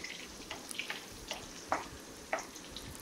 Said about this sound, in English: fry it till the onion turns transparent